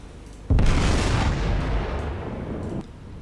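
Naval gunfire from a warship in the video game War on the Sea, opening as a sudden heavy boom that rolls into a sustained, loud rumble for about two seconds before cutting off, with no talking.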